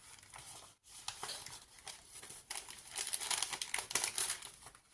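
A recycled paper envelope is folded over while it is being covered for a junk journal page, making close, soft crinkling and rustling that comes in uneven bursts for several seconds.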